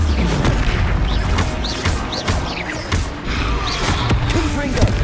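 Spell impacts in a Hogwarts Legacy duel, including a Descendo slam: dense, loud booming thuds and crashes that land in quick succession over busy combat noise, with whooshing casts between hits.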